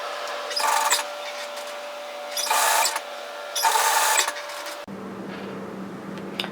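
A sewing machine stitches a varsity bomber jacket seam at 1 centimetre in three short, close runs of rapid mechanical whirring with pauses between them, followed by a low steady hum.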